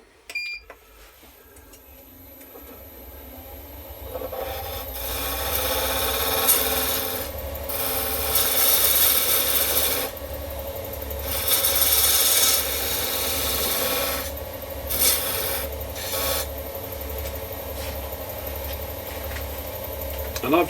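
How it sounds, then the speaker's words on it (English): Parting tool cutting a tenon on a wooden lidded box on a lathe, a harsh scraping rasp that starts after a quiet opening and comes in repeated bursts over the spinning lathe hum, with a voice talking at times. "I'm going to use a parting tool to do that"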